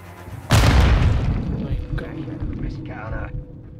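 A grenade goes off in Call of Duty Modern Warfare's campaign, a sudden loud boom with a rumbling low-end tail that lingers for several seconds, with faint German voices and game sounds underneath.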